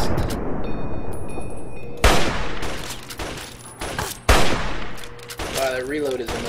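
Gunfire in the video game Fallout 3, with loud booming shots and bursts mixed with game music and effects, shots spaced a couple of seconds apart.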